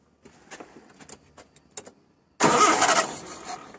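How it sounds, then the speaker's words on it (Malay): A car engine cranks and fires after its carburetor has been serviced, preceded by a few faint clicks and key jingles, then a sudden loud, steady roar as it catches and runs alone. "Jadi sekarang ni carburetor saya dah servis. Kita dah pasang, kita try start."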